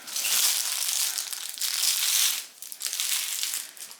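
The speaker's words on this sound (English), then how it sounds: "let me take the plastic off" A plastic wrapping is slid off a new tote bag, giving close, loud crinkling and rustling that runs steadily with a brief pause in the middle.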